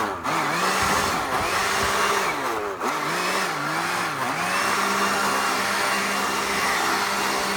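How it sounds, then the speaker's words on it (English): A leaf blower roars close and loud, pushing spilled pine bark mulch back into a landscaped bed, its steady whine rising and dipping in pitch as the nozzle sweeps. "I'm gonna see if I can put this spillover back in with a leaf blower."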